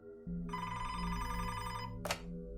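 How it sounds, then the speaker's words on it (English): Old-style telephone bell ringing in a short burst, a bright continuous ring over a low hum, ending with a brief sharp click. "phone suddenly rang"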